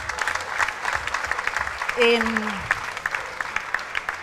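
Audience applause at the launch presentation of the 2024 horse event Cavalli in Villa: a steady patter of many hands clapping, with a short voice rising briefly over it midway.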